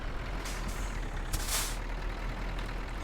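A truck's air brakes let out two sharp hissing releases in Euro Truck Simulator 2 while a trailer is parked, heard over a steady low engine rumble.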